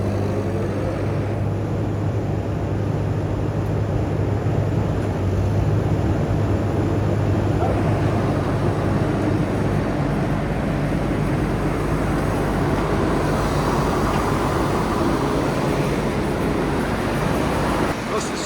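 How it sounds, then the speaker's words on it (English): A generator engine runs steadily on a farm while barley is cleaned for seed, giving a loud, constant droning hum that continues unbroken throughout. "This has just started the generator. It starts the engine, and now setting everything running."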